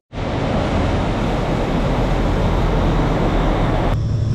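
Loud, constant roaring rumble of a moving train in Japan bound for Noboribetsu, steady throughout, with an abrupt shift in tone near the end.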